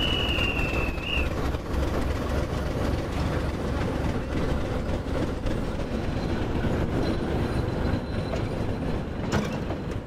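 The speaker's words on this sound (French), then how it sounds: "conduit la locomotive et ses 3 wagons jusqu'à Shkodra, à la frontière avec le Monténégro" A locomotive hauling three wagons toward Shkodra near the Montenegro border rumbles loudly and steadily on the rails, with a brief high squeal early on and a sharp clank near the end.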